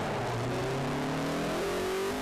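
Race cars rolling around Brands Hatch GP Circuit on the formation lap, a steady droning engine note with slowly rising pitch, fairly close and continuous, no talking.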